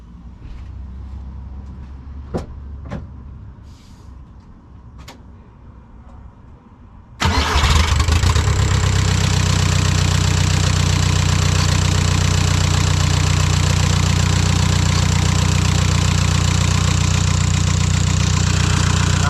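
After quiet clicks and faint rustling, the turbo diesel engine of a Mk3 Toyota MR2 cranks and catches suddenly, then settles into a loud, steady diesel idle that drones on.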